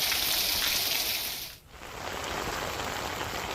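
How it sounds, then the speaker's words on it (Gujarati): Heavy rain pours steadily in rural Gujarat, a dense, loud hiss of drops on surfaces that dips briefly midway before resuming at full strength. "ધોધમાર વરસાદની શરૂઆત થઈ છે."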